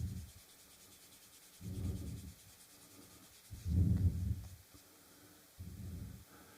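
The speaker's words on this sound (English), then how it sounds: "Then you give it your light sanding." Soft, rhythmic sanding strokes rasp back and forth over wood filler, four or five gentle light passes with quiet pauses between them.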